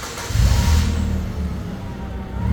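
A Hyster H60FT pneumatic-tire forklift with an LP gas engine drives nearby, its motor rising to a steady, loud hum that holds for a couple of seconds.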